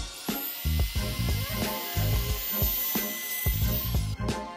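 An electric wood trimmer fitted with a bearingless V-groove bit chamfers a wooden edge. Its high motor whine holds steady throughout, while the cut adds loud, uneven grinding bursts close by.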